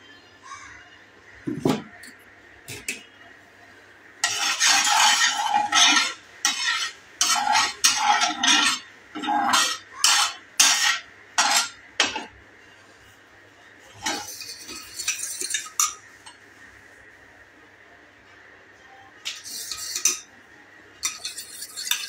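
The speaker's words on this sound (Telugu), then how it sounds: "ఈ రెండు బాగా కలిసేంత వరకు ఇగో ఇలా తిప్పుతూ ఉండాలి." A utensil stirs and beats an egg mixture for bread omelet in a bowl, making rapid clinking and scraping strokes in bursts with short pauses, close, with faint voices in the background.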